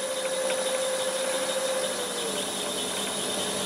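Steady, even whir of a wood lathe spinning an apple wood bowl blank, with a 1/2 inch bowl gouge starting the cut; a continuous mechanical hum with a high whine, close and moderately loud, no talking.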